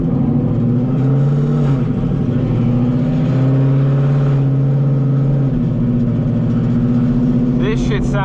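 A Whipple-supercharged S650 Mustang GT with a 10-speed revs and burbles close by in a loud, continuous engine drone, pitch shifting as the throttle changes, with a short rising rev at the end.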